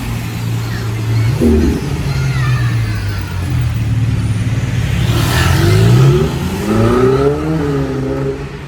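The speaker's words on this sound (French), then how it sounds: "Encore la Pista qui repasse." A Ferrari Pista sports car passes again along a Monaco street, its engine rising and revving as it approaches and sweeps by fairly close, with the pitch climbing and shifting over a steady background of traffic.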